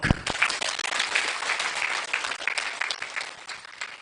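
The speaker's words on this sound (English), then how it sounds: "Cheboy, let's clap for Doc." An audience at a Sunday afternoon gathering of delegates in Lambusi applauds for Doc, dense continuous clapping from a sizeable crowd that carries steadily throughout, close and full.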